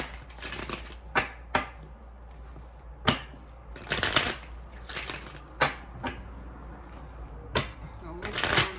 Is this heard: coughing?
no